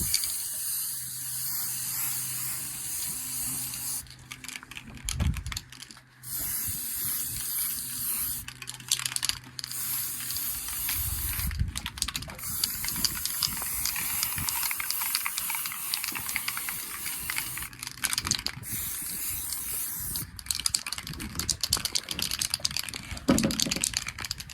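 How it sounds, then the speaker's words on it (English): Light coat of primer sprayed from a can onto a VW Bug part in bursts of hissing spray separated by short pauses, close and fairly loud, with faint handling noises between passes. "Get a light coat primer on."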